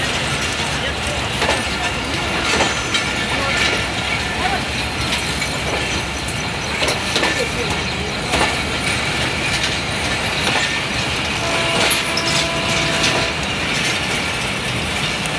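Train GU40 pulls in on a Pakistani railway line, its steady rumble and clattering wheels filling the scene with dense, continuous noise and rhythmic clanks, loud and close throughout.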